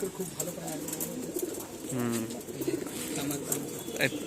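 Pet pigeons kept in a loft cooing softly, a few low rolling coos rising near the middle over a busy background of other birds, with someone talking at times.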